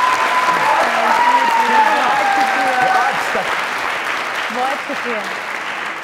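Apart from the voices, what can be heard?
audience applause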